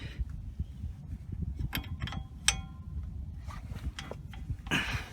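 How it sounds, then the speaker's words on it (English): A wrench working loose a 22 mm tie rod bolt on a 2000 Chevy 1500 truck, giving a few sharp metallic clicks and ratcheting creaks over low background rumble, fairly quiet and close. "we want to loosen this bolt. It's a 22 millimeter, and we want to turn it clockwise"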